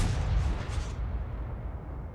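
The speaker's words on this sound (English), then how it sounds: "Try a couple blind shots into that AMX AC-46 just to see." A single heavy cannon shot from an M18 Hellcat tank destroyer in a video game on a highway map booms close and loud, then rumbles away into a fading tail.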